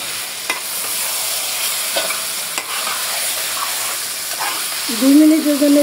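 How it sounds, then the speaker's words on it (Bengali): Beef being stirred and fried in oil over fried onions in a pot for a Bengali beef and potato curry, giving a steady sizzle with a few soft scrapes of a spoon and a brief louder clatter near the end. "দুই মিনিটের জন্য একটু তেলের সাথে ভাজা নেব"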